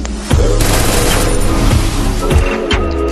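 Video game gunfire during a headshot kill: a loud, rapid fusillade of shots and booms packed closely together, heard alone with no talking.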